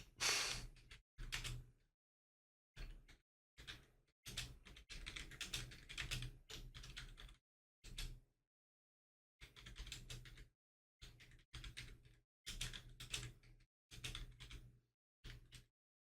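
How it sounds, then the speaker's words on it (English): Bursts of typing on a computer keyboard, with quick clattering keystrokes close up, broken by silent pauses of a second or more, and no voices. "I'm typing."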